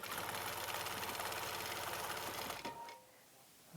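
A sewing machine stitches a minky quilt in a steady, rapid mechanical rhythm close by for about two and a half seconds, then stops, leaving quiet room tone.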